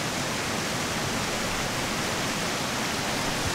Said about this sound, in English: Let's cross over this waterfall.